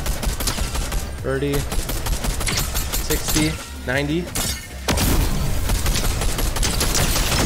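Rapid gunfire bursts in the Fortnite video game, repeated loud shots with shattering impacts over game music, while a player talks throughout.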